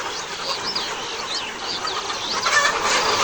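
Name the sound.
chickens clucking, layer hens for delivery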